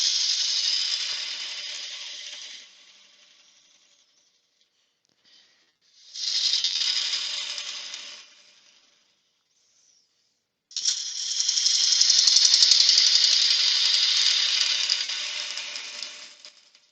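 A small spindle gouge hollows a wooden piece on a lathe, giving bursts of hissing, scraping cuts that stop and start in separate passes, close and fairly loud, with no talking.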